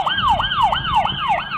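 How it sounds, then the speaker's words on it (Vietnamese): An electronic card reader toy plays a police car siren, a loud, close electronic wail rising and falling in quick repeated sweeps, alone with no talk. "Police car."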